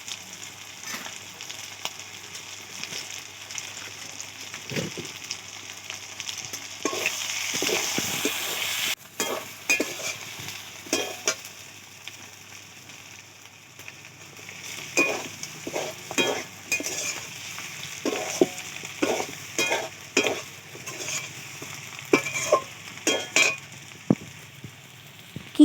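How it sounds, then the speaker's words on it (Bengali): Chicken pieces stir-fried in a pan with garlic for a village-style Bengali curry, with a soft continuous sizzle and repeated scraping strokes of a spatula that grow more frequent in the second half. "খুব কষিয়ে কষিয়ে রান্না করব"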